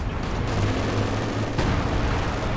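Mortar half-track firing in a World War II real-time strategy game, heard as a dense, continuous roar of battle gunfire and blasts that stays loud and steady throughout.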